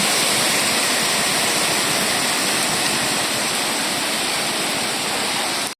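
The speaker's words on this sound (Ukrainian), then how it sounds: "Ось і дочекалися сильного дощу" Dense, steady rushing hiss of heavy rain pouring continuously, loud and unbroken until it cuts off at the end.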